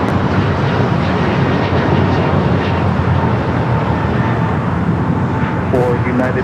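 Airliner taking off at LAX, a loud steady broadband engine roar that holds throughout, with radio voices talking over it.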